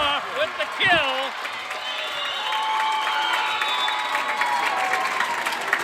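A crowd cheering and applauding at a high school volleyball game, with steady clapping and scattered whoops in a gym, and a voice talking briefly at the start.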